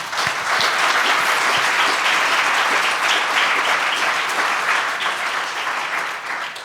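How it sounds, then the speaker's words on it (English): A conference audience gives speakers a round of applause after a climate change report talk. Dense, loud clapping fills the room steadily and tapers slightly at the end. "Maybe we'll give them a round of applause"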